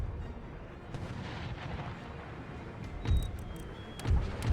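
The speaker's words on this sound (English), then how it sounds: "And artillery." Artillery fire in Empire Total War, Darthmod battle: a dense continuous rumble of distant cannon volleys with sharper booms near three and four-and-a-half seconds, loud and unbroken.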